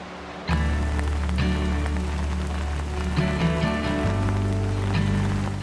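Rain pours onto a city street in a steady, close patter of drops hitting the pavement, starting abruptly and continuing with no voices over it.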